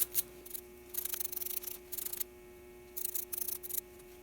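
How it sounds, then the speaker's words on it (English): Wire brush scrubbing shavings off a crusty Gilbert HO model train motor, in short bursts of bristly scratching strokes over a steady background hum. "I'm going to clean off all this stuff with a wire brush"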